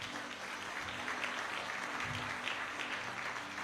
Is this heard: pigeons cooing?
no